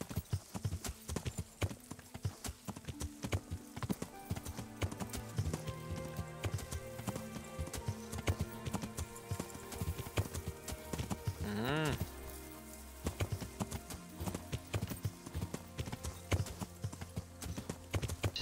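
Horse hooves clip-clop steadily through a medieval countryside in Kingdom Come: Deliverance, a continuous rhythmic trot over game music and ambience, with a brief whinny midway.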